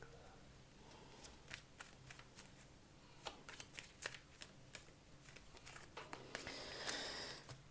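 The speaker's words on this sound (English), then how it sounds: "your cards are all flipping all over the place here" Tarot cards are shuffled and flipped during a reading, giving soft, close papery flicks and slaps in irregular bursts, quiet and without talk.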